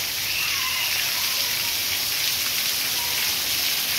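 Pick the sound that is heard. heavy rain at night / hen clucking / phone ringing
heavy rain at night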